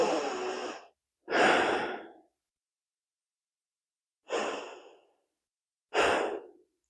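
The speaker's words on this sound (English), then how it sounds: "Take a few deep breaths." Four deep breaths in a Kundalini yoga heart-opening kriya, each a long, close, airy rush with quiet gaps between, the last two shorter and more sighing.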